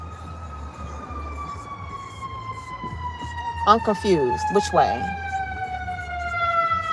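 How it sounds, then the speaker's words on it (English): Emergency vehicle sirens wail from an unclear direction at a traffic light, steady rising and falling tones audible from a distance throughout, with a brief spoken question and other voices partway through. "where the damn sirens coming from?"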